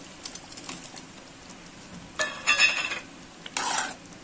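Paneer being stirred into cooked spinach in a pan: quiet background, then two short bursts of spoon scraping and clinking against the pan, close and soft.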